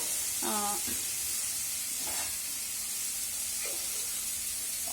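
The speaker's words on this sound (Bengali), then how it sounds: "তরকাটা দিয়ে দেবো।" Tarka is poured into a well-fried red spice paste, bringing a faint, steady sizzle and hiss with a few brief voice-like sounds over it.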